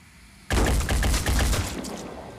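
Rapid assault rifle fire in the video game Phoenix Point erupts suddenly as a loud, dense burst of repeated shots, then tails off into a rumbling echo.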